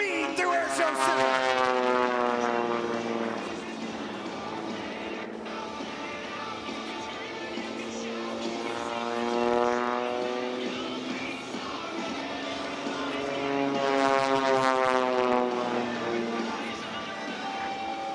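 Aerobatic plane Dracula, with a Pratt & Whitney R985 radial engine, roars through a high-speed pass at an air show, engine drone swelling and sweeping in pitch as it approaches and recedes, under a loud announcer's voice.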